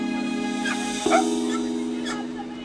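Rescue dogs at a Wings of Rescue flight event, with several short barks and yips from a distance over a steady droning engine-like hum, a sharper bark near the middle.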